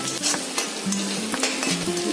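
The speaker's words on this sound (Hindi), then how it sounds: "इसे 2 मिनट तक हम फ्राई होने देंगे" Green chilies fry in oil in a pan for aloo poha and are stirred, giving a loud, steady close sizzle with scraping spoon strokes throughout.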